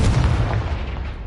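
A Confringo fire spell explodes in Hogwarts Legacy, a dense low booming rumble that stays loud and sustained, like a close blast rolling on for a second.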